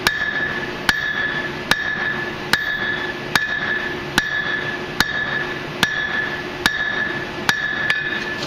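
Hammer blows shaping hot steel into a bottle opener at a forge, ringing metallic strikes landing in a slow, steady, deliberate rhythm roughly once a second, close and clear with no talking.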